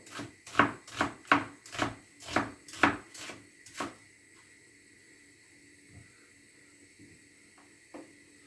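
A knife chops onion into large rings on a board with about eight quick, even cuts, followed by a few faint scattered taps.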